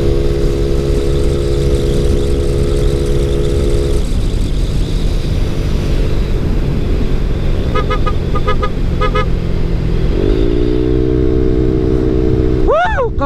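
Motorcycles cruise on a long-distance endurance ride, engines humming steadily with shifting tones as they speed up, a horn honking midway and wind rushing past throughout.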